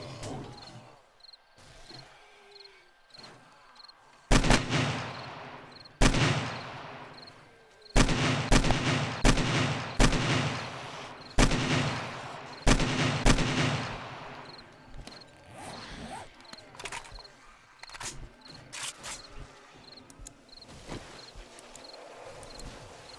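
Gunfire from an SMG in the survival video game 7 Days to Die: several bursts of rapid shots, some close-spaced, against a quieter in-game background with a faint repeating tick, loud and up front.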